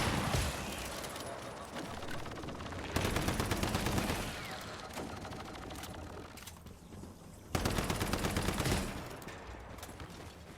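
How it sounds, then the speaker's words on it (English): Enemy gunfire rattles at the player in the survival shooter Once Human, two loud bursts of rapid shots several seconds apart over a steady outdoor ambience with birds faintly audible. "Ooh, somebody is... something is shooting at me."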